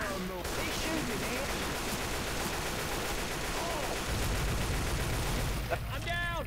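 Dense, continuous gunfire fills a Left 4 Dead 2 video game match on the Dark Carnival campaign, a steady dense rattle of shots throughout with a few faint voice fragments near the end.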